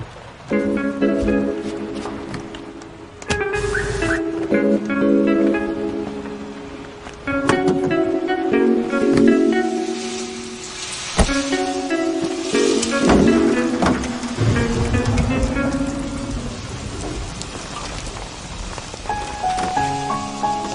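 Rain falling steadily, a continuous hiss of drops on surfaces under musical tones and sustained notes, fairly loud and unbroken across the whole stretch.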